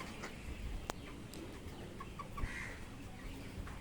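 Faint clucking of about 500 broiler chickens in a poultry farm shed, a few soft clucks and calls against a low steady background hum.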